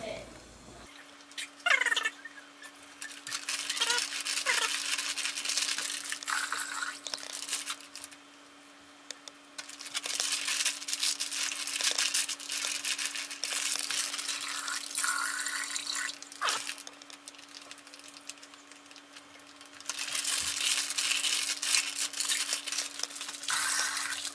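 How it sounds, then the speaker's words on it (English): Water sloshes around inside a wine juice bag during home winemaking, heard as repeated bursts of splashing and swishing with short pauses between, close and fairly loud. "take some water and dump it in there, slosh it around"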